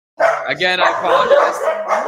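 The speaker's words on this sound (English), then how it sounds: "if you hear any barking, it's from him," Dogs barking and yipping in a home during a podcast interview, the barks tangled with continuous nearby speech that runs over them throughout.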